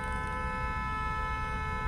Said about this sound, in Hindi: अब लॉन्ग हॉर्न प्रेस करो, हाँ कंटिन्यू लॉन्ग हॉर्न प्रेस करो